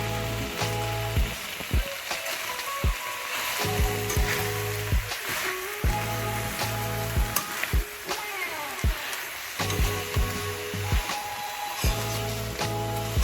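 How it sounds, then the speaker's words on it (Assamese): Greens and potato pieces stirred in a sizzling pan, with a continuous frying hiss and a steady low hum, broken by repeated sharp scrapes and clatters of a spoon against the metal. "এতিয়া আকৌ ভালদৰে মই লৰাই দিম।"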